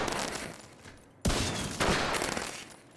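Rapid automatic gunfire from a shooter video game, loud continuous bursts with a brief gap before a sharp resumption, no talk over it.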